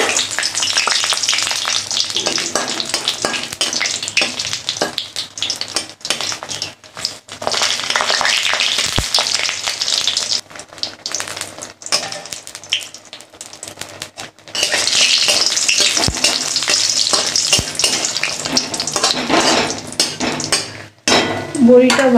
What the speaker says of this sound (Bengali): কটা বড়ি ভেজে নিলাম।